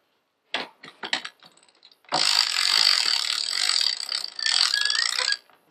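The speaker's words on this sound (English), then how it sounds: "I'll get the topping lift, give that a nice little winch up." A few sharp mechanical clicks come first, then a sailboat winch ratchets steadily for several seconds as the topping lift is hauled up. The rapid pawl clatter is close and loud, with no talking.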